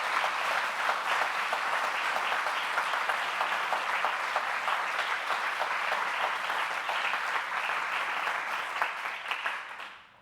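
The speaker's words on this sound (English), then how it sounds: "a round of applause for everybody who was nominated" Sustained audience applause at a corporate awards event, a full room clapping steadily for the nominees for about ten seconds before fading out at the end.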